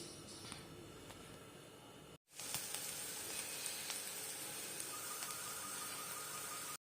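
Carrots fry in ghee in a heated pan for carrot halwa, a steady, fairly quiet sizzle and hiss that drops out briefly before resuming just as evenly.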